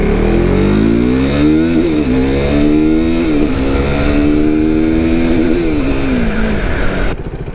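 A KTM RC390 motorcycle engine revs loudly while being ridden, its pitch rising and falling through gear changes in a continuous close drone before easing off near the end.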